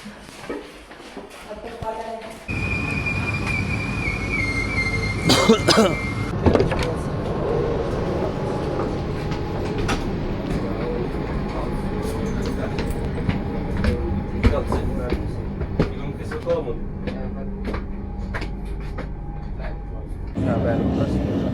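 A train heading toward Lake Como in Italy rumbles steadily from inside the carriage, with clanks, a brief high whine and door sounds, while people talk over the running noise.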